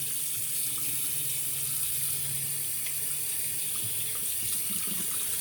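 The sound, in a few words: water running from tap while rinsing hand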